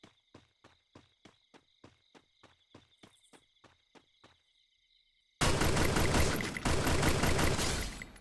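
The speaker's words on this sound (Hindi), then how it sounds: "अब उसे भी मैं डाउन कर देता हूँ ग्रोजा से।" A Groza assault rifle fires in the Free Fire video game, a loud sustained burst in the final seconds that follows a run of regular, evenly spaced clicks.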